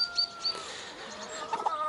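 A rooster gives a few short, close clucks and calls in a farmyard coop with other roosters, fairly loud over low background noise.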